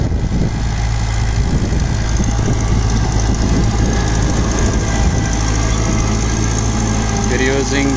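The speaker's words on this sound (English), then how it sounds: "We're using the cultivator, and then we will use the rotary to clean all the weed" A Kubota L4508 tractor engine runs steadily while pulling a cultivator through farmland, a loud, close, continuous diesel drone with vibration that holds throughout, with someone speaking over it.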